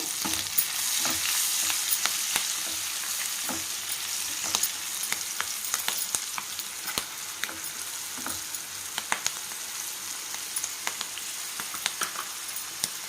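Green chillies and turmeric sizzle steadily in hot oil in a pan, a continuous close frying hiss dotted with sharp pops and crackles throughout, no voices.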